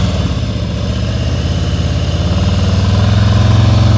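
A motorcycle engine idles close by with a steady, throbbing low rumble during slow-speed riding practice in Maryland, growing slightly louder toward the end.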